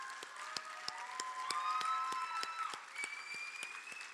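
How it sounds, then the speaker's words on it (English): Applause at a college signing-day ceremony for cosmetology students: fairly faint, evenly spaced claps repeat in a steady rhythm, with thin sustained tones running underneath. "Can we give them a round of applause too?"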